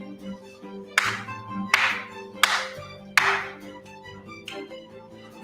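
Sharp, separate claps ring out one at a time in a counting game at a summit event, about five crisp hits at uneven intervals over a quiet hum and faint background tones.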